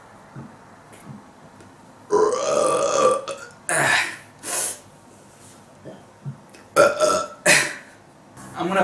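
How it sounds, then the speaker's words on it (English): A big, deep burp pushed to its limit, followed by several more loud, drawn-out belches in quick bursts, close up and alone with no talking. "I'm gonna push it to a limit, see how big and deep of a burp I can get."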